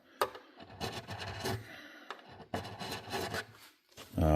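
Abrasive sanding strokes across guitar frets being levelled, several short rasping passes close up with brief gaps between them.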